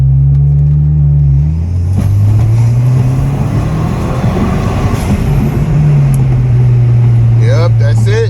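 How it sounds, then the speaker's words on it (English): An Audi car accelerates hard along a back road, its loud engine tone climbing in pitch, dipping as it shifts, then climbing again. A voice can be heard faintly over the close, constant cabin roar. "I'm gonna go ahead and take a left over here so I can kind of step on the gas a little bit."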